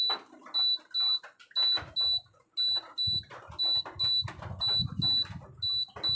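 A power supply buzzer beeps in quick repeated high-pitched pulses while a cellphone technician tests it on the bench, with low handling noises and brief rustles in between.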